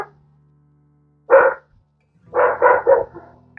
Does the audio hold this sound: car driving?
no